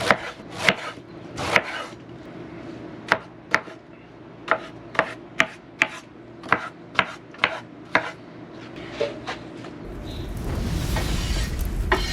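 Knife chopping fresh pineapple on a cutting board, a series of sharp, close knocks at an uneven rhythm with short pauses between, followed by a rising broad rush of noise near the end.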